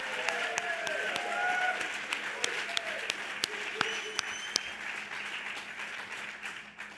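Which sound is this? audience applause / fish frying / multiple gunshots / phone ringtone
audience applause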